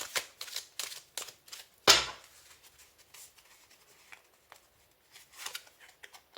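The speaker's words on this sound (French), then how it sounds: "Je vais vous tirer une dernière petite carte." Tarot cards are handled and one is drawn from the deck: soft, close rustles and flicks, then a single sharp riffle burst, then more quiet card slides and taps.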